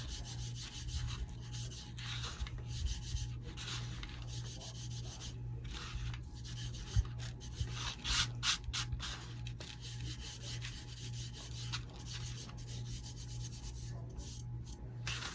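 Steady hand rubbing as a finish is worked into a candle, a continuous soft scrubbing texture with a low constant hum underneath, close and moderately quiet, no talking.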